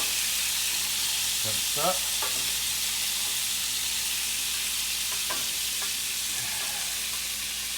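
Calf's liver fries in a pan with a loud, steady, close sizzle throughout, broken by a few faint scrapes of turning, while a voice briefly speaks.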